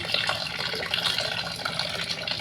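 Water poured into a colourful Java rice mixture in a pot before cooking, a steady close splashing trickle that runs throughout with no speech.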